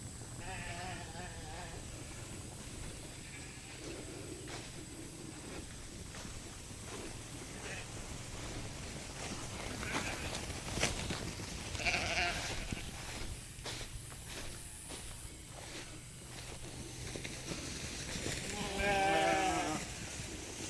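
Sheep bleat now and then across an open field as they graze, with a few louder calls near the end over steady outdoor background noise.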